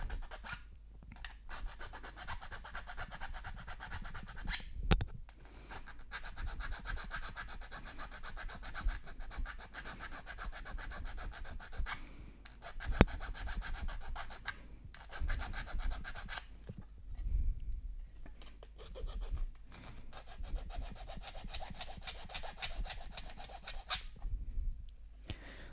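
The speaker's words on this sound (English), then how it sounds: "I have to scrape even more metal" Continuous close scraping and rasping of metal inside a tablet casing being converted into a power bank, in long rhythmic strokes with brief pauses, loud and alone.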